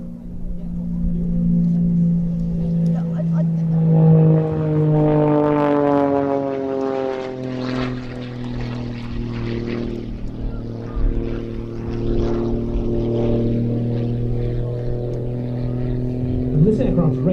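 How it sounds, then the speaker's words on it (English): A propeller aerobatic aircraft flies and climbs hard, its loud droning engine note sweeping in pitch as it passes and pulls upward, heard over a public-address commentator. "this aircraft's rate of climb already has to be seen to be believed"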